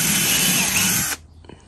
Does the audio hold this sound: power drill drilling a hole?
yes